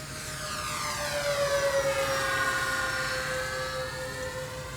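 A Dynam E-2C Hawkeye RC model plane, gear and flaps down, whines steadily through a roll, its high tone sliding slowly downward as it passes, loud and continuous with no voices.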